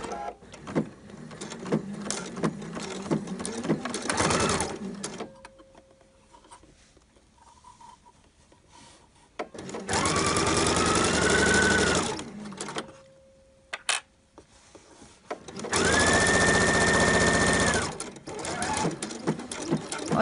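A sewing machine runs in two bursts of a few seconds each, stitching a shoulder seam on a Liberty fabric shirt, a close rapid whirring clatter with quieter handling and brief pauses between runs.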